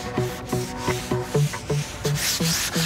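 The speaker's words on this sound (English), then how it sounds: "First thing we're going to do is sand it down." Wooden table being sanded by hand, a steady back-and-forth rubbing rasp repeating in even strokes about three times per second, close and clear with no talking.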